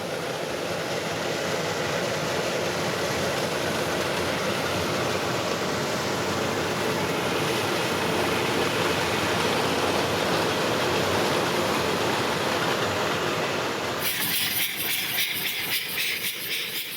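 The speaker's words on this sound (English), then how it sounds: "Built in 1869, this train was the world's first mountain climbing railway engine." An 1869 cog railway mountain-climbing engine rumbles along with a steady hiss and clatter of its rack gear, continuous and close, ending in an abrupt cut.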